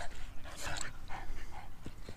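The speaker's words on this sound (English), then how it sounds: "All these dogs fighting there." Dogs at a sandy dog park scuffle and play-fight, with yips, whimpers and panting close by against a steady outdoor background.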